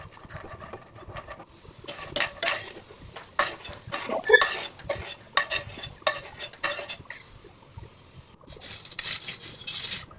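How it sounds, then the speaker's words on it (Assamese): Almonds are stirred in two spoons of hot ghee in a pan, with repeated metallic scrapes and clatters of the spoon against the pan coming in bursts, close and fairly clear, with no talking. "এতিয়া এলমণ্ড কেইটামান ভাজি ল'ম।"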